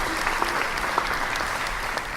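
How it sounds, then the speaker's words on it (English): An audience applauds after a show segment, dense clapping that stays steady and fairly loud for a couple of seconds. "Let's give them a round of applause."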